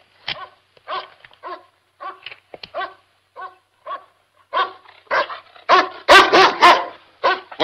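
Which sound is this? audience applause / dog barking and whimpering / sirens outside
dog barking and whimpering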